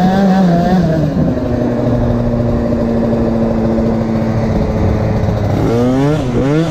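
A 70cc Most Wicked moped with a long transmission and a new, still-tight belt pulling away slowly, its engine droning loud and close at a steady pitch before climbing in short revving surges near the end.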